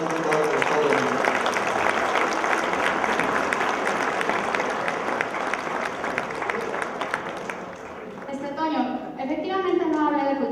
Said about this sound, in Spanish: permíteme brindarte un aplauso y reconocerte todo el apoyo que nos has brindado en el Estado de México